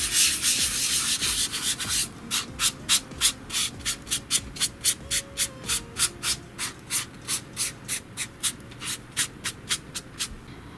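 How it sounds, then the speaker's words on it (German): A small dish sponge dabs and rubs face paint across skin to blend brush strokes, giving a steady run of soft, close scrubbing strokes in a regular rhythm with no talking. "deshalb nehme ich jetzt hier mein kleines Abwaschschwämmchen und verstreiche die Pinselstriche gut"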